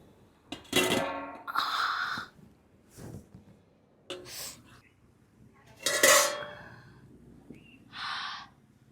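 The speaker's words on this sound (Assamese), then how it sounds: "এতিয়া ঢাকোন মাৰি দিম" A metal lid clanks onto a cooking pot in a home kitchen during Bihu cooking, several close, bright clatters spread across a few seconds against a quiet room.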